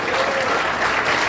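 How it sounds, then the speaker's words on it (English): An audience at the Rhythm Room music venue breaks into a round of applause for the founder, dense, steady clapping from a crowd filling the room without a break. "let's give him a round of applause"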